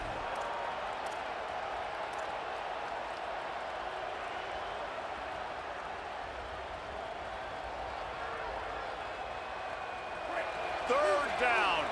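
A College Football video game stadium crowd roars as a steady, distant wash of cheering with a brief swell near the end, under a commentator's talk.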